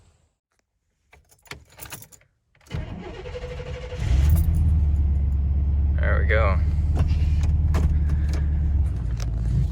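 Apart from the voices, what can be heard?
1998 Chevy 3/4 ton pickup truck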